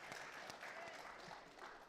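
A small group clapping for a speaker at a recovery-meeting trivia night, a short burst of scattered hand claps heard faintly in a room.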